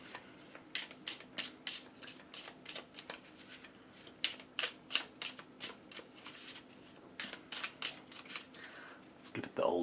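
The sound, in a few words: riffle shuffling playing cards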